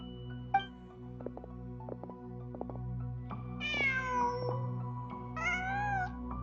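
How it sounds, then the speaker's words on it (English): A cat in Genshin Impact meows twice, each call a clear rising-and-falling cry standing out over a steady low game ambience with faint soft taps between. "Just a cat."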